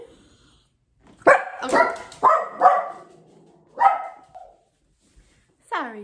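A small dog barks in a quick run of five or six sharp yaps, pauses, then yips once more, close and fairly loud, with a person briefly speaking softly.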